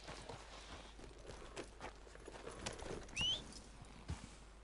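Horse hooves walking in Red Dead Redemption 2, a soft, steady clip-clop of light footfalls at a slow walking pace, faint and close, with a brief whistle-like squeal partway through.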